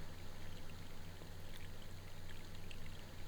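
Water runs steadily in the Broken Sword video game, a faint continuous pouring hiss with no talking over it.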